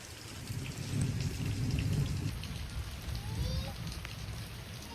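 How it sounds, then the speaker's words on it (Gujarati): Heavy rain falls steadily in a village, a dense, continuous hiss and patter on surfaces that swells slightly in the middle and carries on without a break, with no clear talk. "જો વરસાદ ચાલુ છે એટલો બધો"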